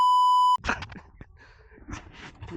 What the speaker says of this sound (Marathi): भाई शिव्यांना बीप करायला लागेल आता